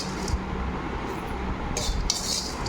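Prawn fry being served into a dish, with cutlery scraping and clinking against the serving pan and plate in a steady close run of small metallic and ceramic contacts.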